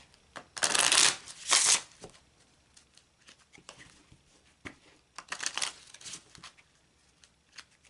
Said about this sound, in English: I'm going to shuffle until I feel led and guided to stop